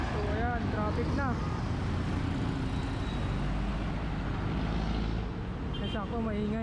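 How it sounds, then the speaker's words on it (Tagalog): Road traffic passes around a cyclist riding to work, with a loud, steady rumble of engines and tires close by and brief squealing brake tones near the start and end. "So ayan, traffic na."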